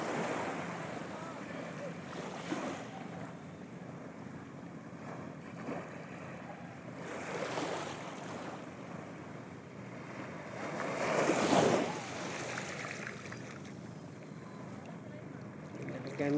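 Surf washing onto a beach, a steady broadband wash with swells of louder breaking around the middle, mixed with wind rumble against the microphone; no clear talk over it.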